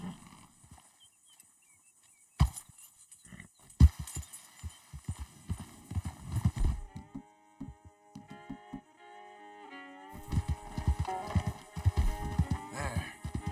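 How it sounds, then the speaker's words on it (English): A horse in Red Dead Redemption 2 trots and gallops with rhythmic clip-clop hoofbeats over a quiet game soundtrack, the steps growing denser and busier toward the end. "Grande cavalo."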